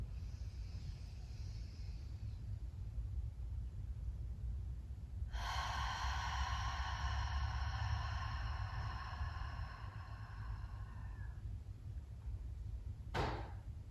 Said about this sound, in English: shifting to Ujjayi, oceanic breathing, nasal breathing